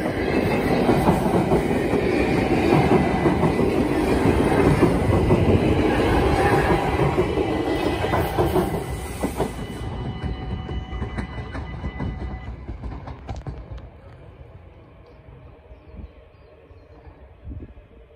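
A Dutch passenger train rolls past loudly with rumbling wheels and clattering over rail joints, then fades away as it moves into the distance.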